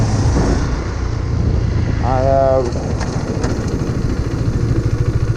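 A new motorcycle idles steadily and close by, its low rumble continuous throughout with a brief tonal whine rising over it midway.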